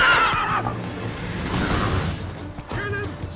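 A horse whinnies loudly in The Witcher 3, a high wavering neigh opening the clip and fading, with a second shorter call near the end over a steady game ambience.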